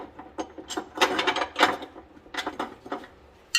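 A car audio battery lock bolt is tightened by hand, giving a run of small close clicking, ratcheting and rattling metal sounds in uneven bursts, with no talking.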